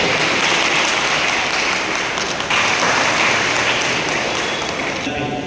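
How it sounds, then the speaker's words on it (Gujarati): An audience at a school enrolment and girls' education ceremony in Mandal taluka applauds in a loud, unbroken roar of clapping that holds steady throughout. "તાળીઓથી વધાવીએ."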